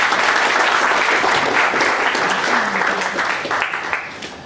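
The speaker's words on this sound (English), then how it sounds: "Please give him a huge round of applause." An audience at a professional study circle meeting breaks into a round of applause, dense clapping that holds steady and then begins to thin out and fade.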